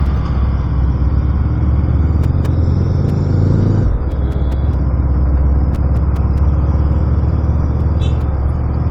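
Steady road and engine rumble from a moving motorcycle, with other vehicles coming up from behind on the right, left and directly to the rear; wind and traffic noise stay loud and continuous throughout, with a brief dip partway.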